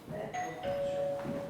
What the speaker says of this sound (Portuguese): Tá tocando a campainha, vamos ver o que é.